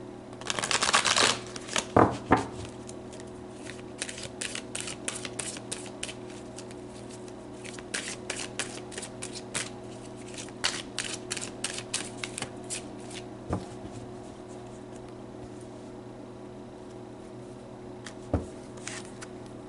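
Oracle deck cards shuffled by hand during a tarot-style reading, a quick riffle at the start followed by soft intermittent flicks and slides of cards being handled and pulled, close and quiet.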